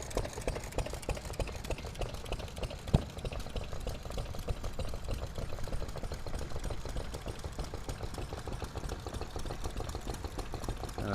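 An Amco stationary engine runs at a vintage working show, a steady rhythmic chugging idle with fast regular beats, heard continuously at moderate distance amid outdoor background noise.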